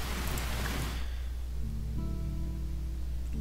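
Heavy rain pours in a dense, steady hiss at night near a ridge, loud and constant throughout, with faint low tonal hums emerging beneath the downpour partway through.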